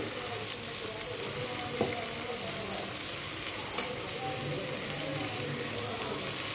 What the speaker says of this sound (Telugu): ఇప్పుడు కొంచెం పచ్చివాసన పోయే వరకు ఫ్రై చేసుకుందాము